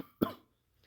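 One short, sharp human cough, close to the microphone, with a brief throaty tail and no talking around it.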